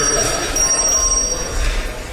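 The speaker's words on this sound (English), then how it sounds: "Oh, my God, will you stop with the bell?" A quorum call bell in a legislative chamber keeps ringing with a steady high metallic tone that sounds through the first half, then a low rumble of room noise takes over.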